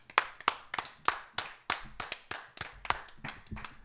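A small group claps for a debate participant at a casual podcast comedy debate, with close, distinct, uneven hand claps that continue steadily for several seconds.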